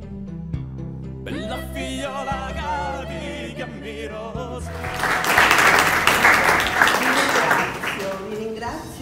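Audience applause at a cultural event in Tusa, breaking out after a sung Sicilian folk verse; music and singing fade into a swelling, sustained wash of clapping that carries to the end.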